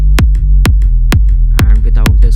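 Sidechained sub bass in an electronic progressive house production, pumping under five loud, evenly spaced kick drum hits that duck the sustained low bass on each beat, with no other sounds.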